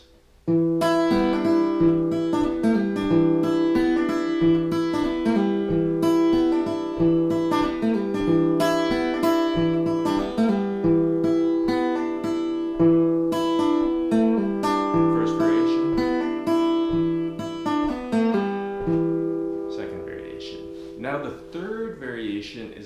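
A guitar plays the fingerstyle blues piece Djina Bantan, a tune adapted from the pentatonic-tuned ngoni. Steady plucked notes ring over a repeating bass line, fairly quiet but continuous, then fade out with a few loose notes near the end.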